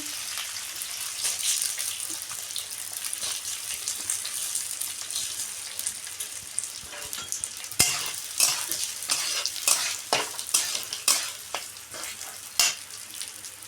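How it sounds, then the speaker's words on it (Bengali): Close sizzle of rice frying in a pan with repeated scraping stirs that grow louder and more rhythmic in the second half. "চাল এখন হালকা আছে বেজে নেব একদম হালকা আছে ভাজতে হবে"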